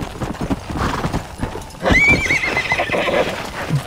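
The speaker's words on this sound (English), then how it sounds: "Good job, horse." A horse in Red Dead Redemption gives a loud whinny about halfway through, set against steady in-game ambience and faint hoof sounds.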